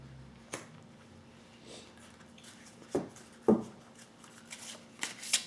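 Oracle cards from an angels-and-crystals deck being shuffled and drawn, soft scattered riffles and sharper card snaps and taps, close and quiet with no talking.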